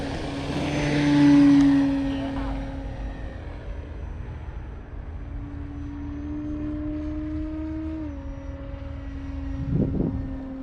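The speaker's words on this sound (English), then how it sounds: "Do not need flaps, taking off into the wind." An E-flite Carbon-Z T-28 radio-controlled model airplane's propeller drones steadily nearby as it takes off into the wind, its whine holding pitch then dipping slightly, with a brief knock near the end.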